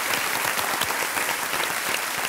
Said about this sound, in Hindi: तालियों के साथ इनका एक बार फिर से स्वागत।